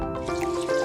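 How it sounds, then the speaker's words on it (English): Water pours into a cooking pot of gizzard for Nigerian peppered gizzard, a brief close trickling splash. "And finally, I'll be adding the water."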